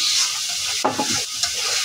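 A pan of food fries with a steady hiss while a spatula scrapes and stirs through it in a couple of short strokes, close and clear without any speech.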